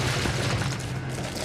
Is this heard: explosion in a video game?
yes